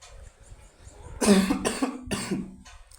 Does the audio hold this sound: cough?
yes